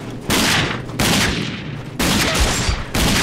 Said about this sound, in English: Oh shit, that's a shotgun.